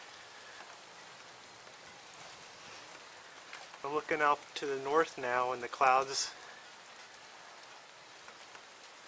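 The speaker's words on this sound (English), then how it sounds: "The rain is starting to fall from the northwest, or the northeast rather" Rain beginning to fall at the onset of a desert monsoon thunderstorm in Tucson, Arizona, a soft steady patter through the whole stretch, with someone speaking over it in the middle.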